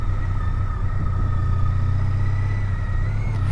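Steady low engine drone of a 2013 Honda Pan European motorcycle cruising through town, a constant close rumble with a faint whine above it and no pauses.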